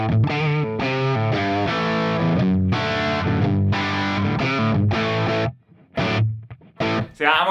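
A Les Paul electric guitar played through an amplifier with no reverb gives a distorted tone, sustained chords and notes in a steady run, then a few choppy stabs at the end, loud and with no talking.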